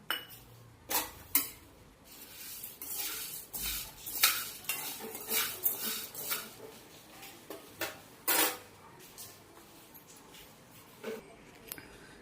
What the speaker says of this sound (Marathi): हा साबुदाणा आपण भाजून घेऊया।